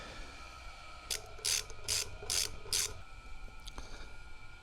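Ratchet tightening motorcycle brake disc bolts on an Interceptor 650, four or five quick close clicking bursts in a row, then a faint tap, in a quiet setting.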